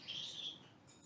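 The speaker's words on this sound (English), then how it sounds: "if you can hear that little bird screaming, it's because we have 2 parrots in here" A small pet parrot, one of two kept in a sewing room, gives a thin, high, drawn-out call that lasts about half a second and sounds faint and somewhat distant, with no talking over it.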